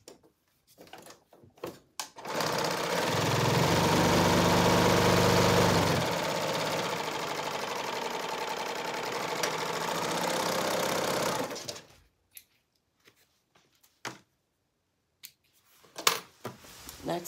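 A sewing machine runs in one long continuous burst of rapid zigzag stitching, loud and close, with quiet handling clicks before and after.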